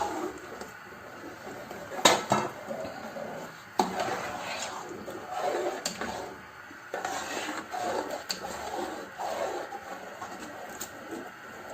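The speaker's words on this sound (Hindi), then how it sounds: "बस अब इन सब चीज़ों को हमें मुसलसल भूनना है।" A paste of boiled, ground potatoes with spices, stirred and fried in a pan for chana chikar cholay: soft scraping and rustling with a few sharp clanks of the spoon, close and moderately quiet, with no talk.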